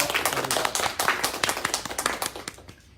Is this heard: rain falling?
no